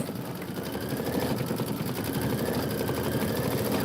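Kimberbell embroidery sewing machine running a satin stitch along a roof in a tiled home scene, a steady close mechanical whir with fast rhythmic needle pulses, continuous and alone.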